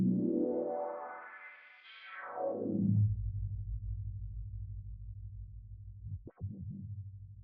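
A filtered guitar riser sweeps up and falls back, then a soaking wet, washed-out reverb tail hums on steadily, ending with a brief warbling flutter.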